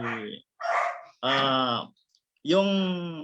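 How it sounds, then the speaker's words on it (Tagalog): A neighbour's dogs bark in four loud, close barks with short gaps between them, some drawn out and howl-like, with no other sound around them. "Ang gulo ng mga aso dito sa kapitbahay ko."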